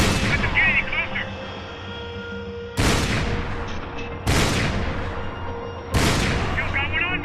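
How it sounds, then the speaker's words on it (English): Heavy gunfire bursts in the video game Max Payne 3, with loud booming shots hitting at irregular intervals of a second or two over a continuous bed of game noise and shouting voices. "Shoot, Max, shoot"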